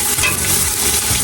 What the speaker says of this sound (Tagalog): Ayan, gisa natin.